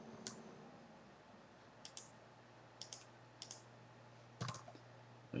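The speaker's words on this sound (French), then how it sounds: "Alors, je tape ici." Sparse, faint keystrokes on a computer keyboard tap out in small irregular clusters, a few isolated clicks and a brief flurry near the end over a quiet room hum.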